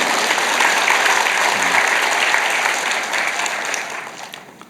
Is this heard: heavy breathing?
no